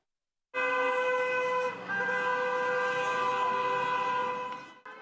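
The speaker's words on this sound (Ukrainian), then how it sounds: "гул автомобільних сигналів" Car horns blare in a sustained, dense chorus of overlapping tones at a rally on a central city square in Cherkasy, continuing for several seconds with a brief dip midway.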